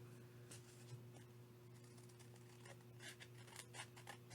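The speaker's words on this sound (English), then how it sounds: "I'm just going to cut it with my scissors here." Soft snipping of scissors through paper, a few quick cuts spread over several seconds against a steady low background hum.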